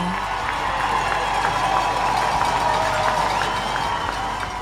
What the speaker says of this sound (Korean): 이렇게 많은 관중들이 환호하는 순간을 영원히 잊을 수 없는 건 너무 당연하겠죠